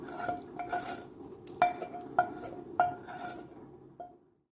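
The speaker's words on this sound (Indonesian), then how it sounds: "Sekarang saya akan masukkan bumbu yang sudah ditumis tadi ke dalam rebusan daging ayamnya." Metal utensils clink and scrape against a cooking pot as sautéed spice paste is stirred into chicken broth for Medan-style chicken noodle soup, a series of sharp taps amid a soft bubbling background, close and fairly quiet.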